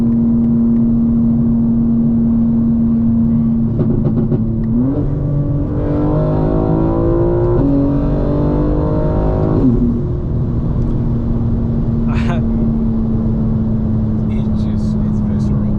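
A 900 HP 2025 BMW M4 Competition xDrive pulls hard in fifth gear at night, its engine droning steadily then surging into a loud, rising rev for several seconds before settling back to a steady roar, with someone talking over it.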